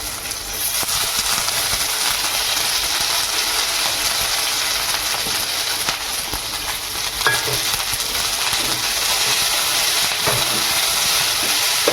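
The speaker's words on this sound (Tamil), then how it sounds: "இது நல்லா ஃப்ரை ஆகணும்." Drumstick leaves (murungai keerai) frying in a pan for a thogayal, a steady, loud, close sizzle with continuous hiss and occasional stirring scrapes, no talking.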